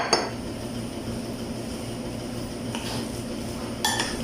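Cauliflower batter is stirred with water in a bowl, giving soft continuous scraping and sloshing with a few sharp utensil clinks against the bowl near the start and end.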